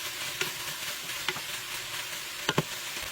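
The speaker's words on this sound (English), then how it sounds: "we're gonna add our potatoes and we're just gonna let those saute for a few minutes" Potatoes sautéing in a pan for a Mexican beef and potato stew, a soft, even sizzle with a few sharp clicks of a utensil against the pan and no talk.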